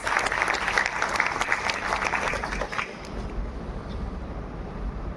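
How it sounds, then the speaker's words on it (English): Audience applause welcoming a speaker at a public conversation event at the Gokhale Institute of Politics and Economics in Pune, a dense roar of clapping for about three seconds that then fades into quieter room noise. "Let's welcome him with a huge round of applause."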